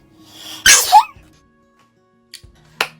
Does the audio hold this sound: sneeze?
yes